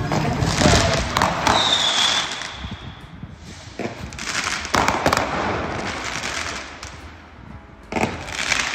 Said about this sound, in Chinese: 我可以闻到烟火的味道